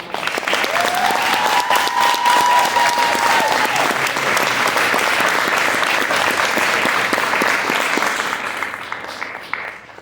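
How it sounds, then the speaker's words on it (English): Sustained, loud applause from an audience at a US Marine Corps retirement ceremony in the chapel at Quantico, Virginia, with a steady wash of clapping for about eight seconds and a sustained tone heard over the start before it tapers off. "let's first and foremost have a round of applause for the great Mass"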